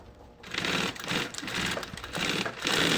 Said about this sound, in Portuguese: E agora a gente vai bater um pezinho de máquina aqui